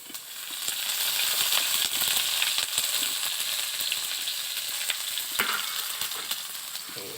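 Leafy vegetables stir-fried in hot oil in a pan for golden fried rice give a continuous bright sizzle and hiss, with scattered clinks and scrapes of stirring throughout.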